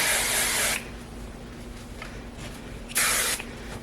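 Two bursts of aerosol hairspray hiss onto hair, the first about three-quarters of a second long and the second briefly later, with a quiet pause between.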